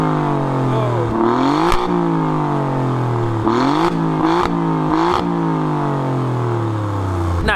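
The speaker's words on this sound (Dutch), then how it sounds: "je hoort het, de Alfa loopt al met de racestand" An Alfa Romeo Giulia Quadrifoglio in race mode, with its aftermarket exhaust valve open, idles loudly and then is blipped through several sharp revs that rise and fall back, close up and dominant.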